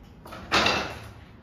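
A heavy metal door like a safe door being opened inside an abandoned luxury house in Culiacán: a soft scrape, then a louder close sliding rush that fades over about a second.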